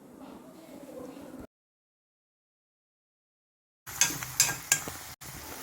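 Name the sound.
stirring okra (vendakka) in a pan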